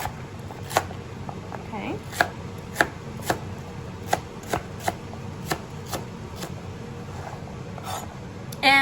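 A knife chops bok choy stems on a cutting board, about a dozen crisp separate strokes at an uneven pace, close and clear. A voice speaks briefly.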